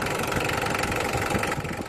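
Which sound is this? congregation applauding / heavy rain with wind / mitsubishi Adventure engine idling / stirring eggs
mitsubishi Adventure engine idling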